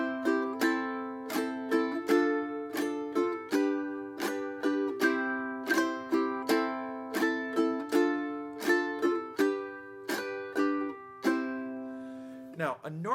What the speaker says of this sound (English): Normal strum, rasgueado up, normal strum, rasgueado up.